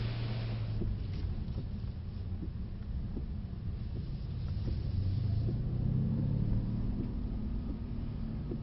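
A Mercedes C63 S engine drones and surges in a low rumble while drifting, rising and falling in pitch, with wind buffeting the microphone throughout.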